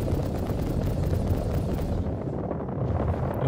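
Turret fire from a Carrack ship in a space video game, a loud, continuous roar of heavy blasts and rumbling that runs the whole way through and thins slightly near the end.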